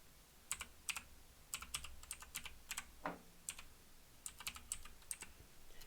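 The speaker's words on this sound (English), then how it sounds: "You guys can hear me type." Typing on a computer keyboard, with quick bursts of close, crisp key clicks in an irregular rhythm and short pauses between them, alone and fairly quiet.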